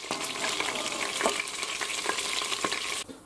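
Meat searing in a pressure cooker pot, a loud dense sizzle with rhythmic stirring scrapes throughout, cutting off abruptly at the end, no voices.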